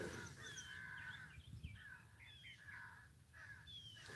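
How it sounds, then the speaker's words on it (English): Several birds squawking and cawing outdoors in harsh, repeated calls, one after another at moderate distance over a low ambient rumble. "All of the other birds make a very melodic sound. They make this squawking sound."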